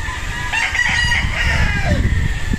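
A Joe Goode Grey gamefowl rooster crows loudly and close by in one sustained call, with clucking and farmyard noise underneath.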